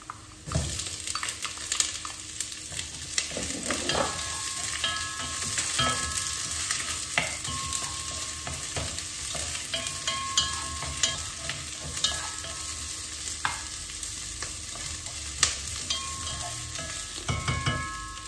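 Onions fry and are stirred into golden-brown garlic for pork adobo, a steady close sizzle with repeated scraping stirs of a utensil through the pan, continuing alone throughout.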